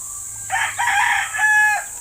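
A hen calls out with one drawn-out, wavering vocalization lasting just over a second. It is fairly close and clear over a quiet background with a low steady hum, and no one speaks.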